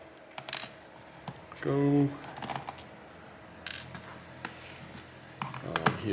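Screwdriver working screws out of the back panel of a Lenovo IdeaPad Slim 3i 14-IAH8 laptop, close ratcheting and clicking turns with a brief whirring burst, a short spoken word among the small mechanical taps.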